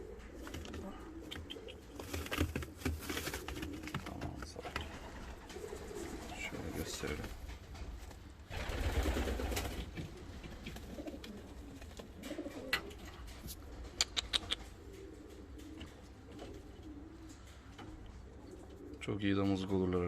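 Jumbo Boy pigeons, a yellow-winged show team of young birds, coo in low repeated murmurs through a loft, with someone talking over them much of the time.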